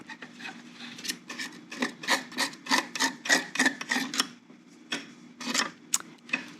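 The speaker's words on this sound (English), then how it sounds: "So putting this through my rasp grater is going to give this a pretty good little garlic kick." A garlic clove is rubbed back and forth on a rasp grater for homemade hummus, producing a close, rhythmic scraping with about a dozen steady strokes, each a short raspy swish, and no talking over it.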